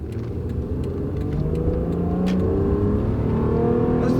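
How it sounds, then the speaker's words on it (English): A used car engine at full throttle, a loud, close, steady accelerating roar with rising tones through the run, heard from inside the car. "we'll look for a little opening here, and we'll floor it. This is that engine."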